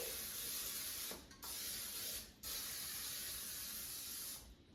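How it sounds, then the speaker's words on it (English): Cooking spray hisses from an aerosol can onto a cornbread pan in three steady bursts with brief pauses between them, close and fairly loud. "So I'll just use a cooking spray."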